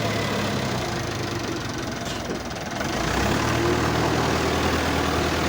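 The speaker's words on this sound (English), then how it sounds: "the tractor is going around the next side" A tractor engine runs steadily at low pitch, a constant heavy drone that deepens slightly partway through as the tractor drives around a truck, with no speech over it.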